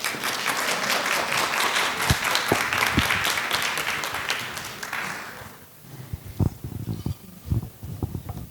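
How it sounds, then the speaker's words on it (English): An audience at a Nairobi conference session applauds the moderator, a loud, sustained burst of clapping for about five seconds that dies down into scattered low thuds and light room noise. "A round of applause, please."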